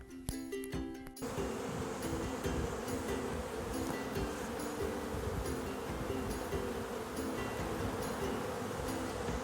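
Honeybees buzzing steadily in a dense, continuous drone, close by and outdoors, after a brief rustle at the start.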